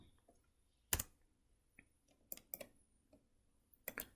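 Computer keyboard keys clicking in a few scattered taps and short clusters while a typed command is copy-pasted, close and crisp in a quiet room.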